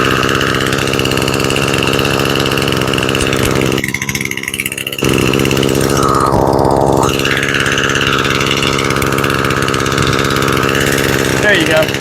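A small petrol engine on an Echo SRM 225 string trimmer idles steadily and close by, a continuous buzzing drone that briefly dips before settling back to an even hum.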